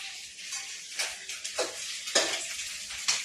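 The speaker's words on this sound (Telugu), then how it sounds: "ఎగ్ ఫ్రైడ్ రైస్ అయితే చేస్తున్నాను" Egg fried rice sizzles in a hot pan, close and steady, with the hiss broken by several sharp clinks and scrapes of stirring and no voices.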